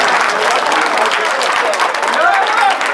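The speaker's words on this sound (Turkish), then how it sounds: "Alkışlıyoruz, alkışlıyoruz." Wedding guests applaud the bride and groom at a wedding ceremony, a dense, continuous burst of clapping from a crowd filling the room, loud and close, with voices mixed in.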